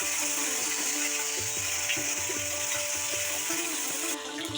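A spice paste of garlic and ginger sizzles and fries in a pan as it is stirred, a soft continuous crackle with faint scraping strokes throughout.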